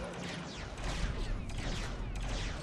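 Blaster gunfire from Lego Star Wars: The Skywalker Saga, a dense run of rapid shots mixed with game effects, loud and continuous for the whole stretch with no talk.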